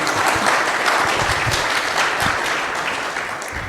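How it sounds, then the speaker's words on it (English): Audience applause at a live discussion on whether God exists, steady dense clapping from a crowd that stays loud throughout and eases slightly toward the end. "Round of applause for Sydney."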